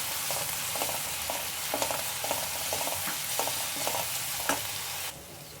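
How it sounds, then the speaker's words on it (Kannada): Ginger garlic paste fries in a pan for chilli chicken, with a loud, steady sizzle broken by a regular rhythm of spatula scrapes. The scraping stops near the end, leaving a quieter hiss. "ಎಲ್ಲ ಹಸಿ ಸ್ಮೆಲ್ ಹೋಗೋವರೆಗೂ ಸ್ವಲ್ಪ ಫ್ರೈ ಮಾಡ್ಕೊಳ್ಳಿ"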